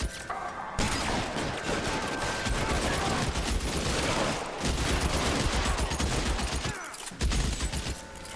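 Dense, continuous gunfire in the video game L.A. Noire, rapid bursts layered over each other with brief gaps, loud and close throughout.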